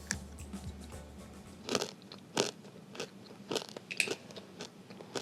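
Uncooked ramen turned into candy is bitten and chewed, giving a series of sharp, close crunches at irregular intervals with no talking.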